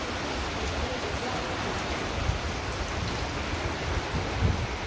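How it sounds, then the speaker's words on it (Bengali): Steady rain pours down in a village, heard from a veranda as a dense, even wash of patter with no breaks. "এত সুন্দর বৃষ্টি হয়েছে"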